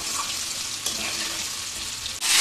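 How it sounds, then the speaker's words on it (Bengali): Potatoes frying in a pan make a constant soft sizzle up close, with a faint stir or scrape partway through and a louder burst of hiss at the very end. "দেখো প্রায় ভাজা ভাজা হয়ে গেছে"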